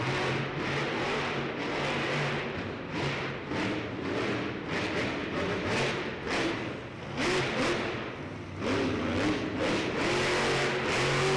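Grave Digger monster truck at an indoor Monster Jam arena in Baltimore, engine roaring and revving loudly through a sky wheelie on a tight dirt track, with thuds from bounces and landings under steady crowd and arena noise.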